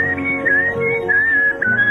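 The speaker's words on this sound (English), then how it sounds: "This is a guy who's whistling deep in his throat" A man whistles deep in his throat, producing a loud, continuous, wavering tone that slides slightly up and down in pitch, heard alone without talk.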